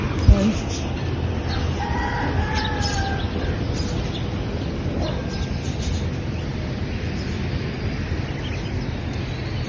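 Hen clucks and crows come and go as a hen pecks grain in a village lane, under a steady outdoor background hum, with faint chatter at times.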